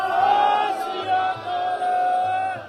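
A large crowd roars back the Sikh jaikara response to the call "Bole So Nihal" in Punjab, a sustained, loud chorus of many voices merging into one drawn-out shout that swells and fades over a few seconds.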